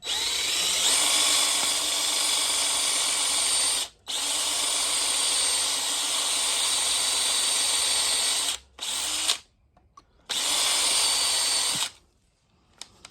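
A cheap drill bit bores out a broken exhaust manifold bolt, a loud steady power-drill whine running in long bursts with brief stops at about 4, 8.5 and 10 seconds before cutting off near 12 seconds.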